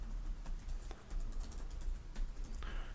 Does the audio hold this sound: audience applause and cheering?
no